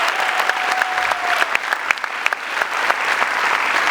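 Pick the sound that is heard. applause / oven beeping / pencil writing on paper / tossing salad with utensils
applause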